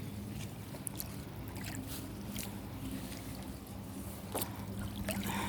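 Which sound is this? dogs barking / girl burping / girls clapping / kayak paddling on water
kayak paddling on water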